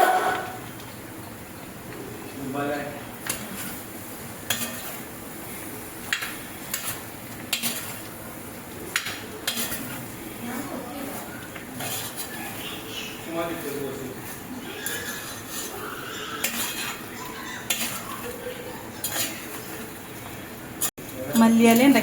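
Cooked soya chunks are stirred in a pan with a spoon, giving soft scraping and clinking that keeps returning at irregular intervals, with cooking noise beneath and a voice talking over it.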